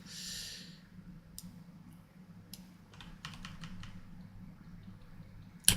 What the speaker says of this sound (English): Trying to tap the keyboard a bit